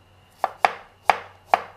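A knife slices shallots lengthwise on a cutting board, four sharp, crisp chops at uneven spacing, close and clear with no voices.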